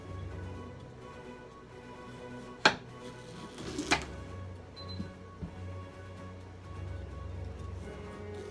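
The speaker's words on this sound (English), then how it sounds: "I'm gonna get my chef's knife, which is this one here, and I am gonna cut it in half" A chef's knife cuts a squash in half on a board, giving two sharp chopping thuds close together and a few lighter knocks afterward, with no talk.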